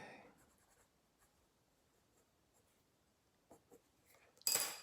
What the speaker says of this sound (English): So I'm just cleaning up some of these lines and adding some more shadow here.